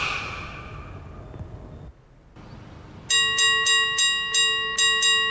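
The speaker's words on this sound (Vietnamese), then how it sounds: "đứng ngoài cửa giật chuông là có người ra mở cửa liền" A doorbell rings loudly with a rapid series of bright, ringing chimes that start abruptly after a stretch of muffled room noise and a brief near-silence.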